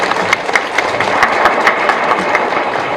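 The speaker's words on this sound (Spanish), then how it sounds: "solicito un aplauso para el doctor" An audience at an oral trial litigation lecture applauds, dense close clapping with sharp individual claps standing out, steady and continuous for a few seconds.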